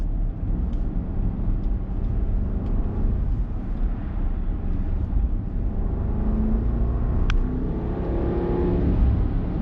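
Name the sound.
Bentley Bentayga SUV engine revving in sport mode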